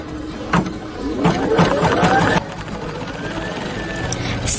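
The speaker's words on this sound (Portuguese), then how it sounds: "Agora, nós vamos passar uma costura para segurar os dois." A computerized embroidery sewing machine stitches through felt and fabric, its rapid needle chatter running near and steady for a couple of seconds before stopping, followed by a quieter motor hum.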